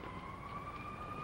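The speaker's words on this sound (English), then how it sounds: "Those are the sirens I was telling you about." Police car sirens wail in a steady, sustained two-tone sweep at moderate distance, continuous over a brief moment with no talking.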